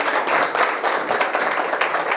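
An audience at a talk on quitting addiction breaks into applause, a dense, steady wash of many hands clapping that stays loud throughout.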